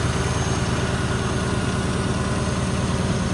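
A 1972 Triumph Stag Mk1 with its 3.0 engine idling, heard as a steady, even, close-up engine rumble with constant vibration and no voices over it.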